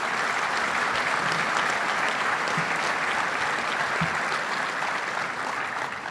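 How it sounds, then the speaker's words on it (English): A luncheon crowd at the Little Rock Touchdown Club gives a big round of applause for sponsors. The clapping is dense and sustained, filling the whole stretch at an even level without fading. "Let's give a big round of applause to all of our great sponsors."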